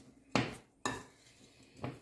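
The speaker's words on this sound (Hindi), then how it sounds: "इनको इस तरह अच्छी तरह से मिक्स कर लें।" A spoon clatters against a bowl while mixing sliced potato, onion and gram flour for pakoras, three separate sharp clinks spaced apart, close and fairly loud.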